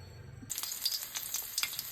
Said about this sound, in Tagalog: ginagisa ko lang po ang ayan po, luya po muna ang aking ilan